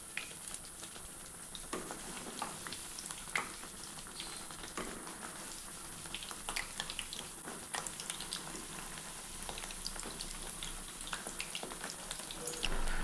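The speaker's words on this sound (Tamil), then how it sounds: "இப்போ நம்ம பக்கோடா போட்டுக்கலாம்." Sweet corn pakoda batter fries in hot oil, giving a continuous close bubbling sizzle with small crackling pops throughout and no talk.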